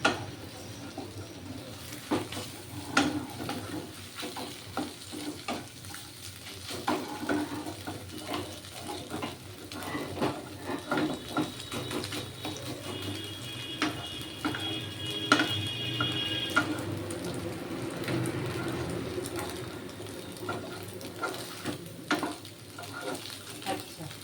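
Egg pasta frying in a pan gives a low, steady sizzle for the whole stretch, with stirring scrapes and occasional clinks of a utensil against the pan.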